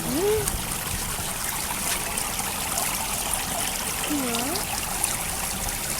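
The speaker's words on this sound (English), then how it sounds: "This is how this water is running over the rock." Water runs over rock from above beside a birch trail, a steady broadband trickle and stream wash that stays close and even throughout, with brief whistle-like tones rising twice over it.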